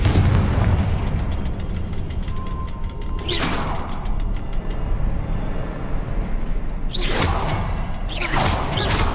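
Fire spell blasts in the video game Hogwarts Legacy, heavy booming whooshes that burst out twice over a constant rumbling game soundscape, loud and close.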